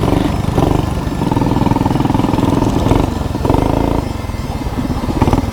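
Trailmaster and CT200 mini bikes, one fitted with a torque converter, riding on a wilderness trail; small engines buzz and rev loudly with repeated throttle surges and changing pitch.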